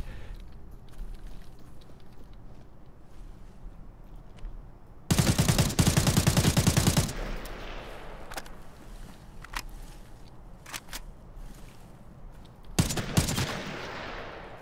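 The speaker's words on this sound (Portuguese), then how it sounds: "esses tiros que a gente tá ouvindo no horizonte são tiros mesmo, tá? Não é efeito sonoro nem nada do tipo." Gunfire in the video game Arena Breakout Infinite: a dense two-second machine-gun burst, then a shorter burst near the end, with scattered single shots over a low ambient rumble.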